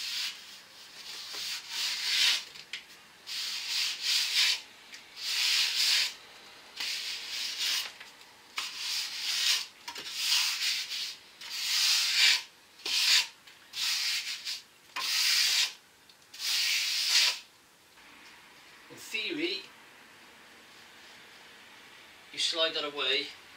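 A timber straightedge is dragged across a wet sand and cement render scratch coat on a chimney breast, giving repeated close scraping rubs in bursts with short pauses between strokes.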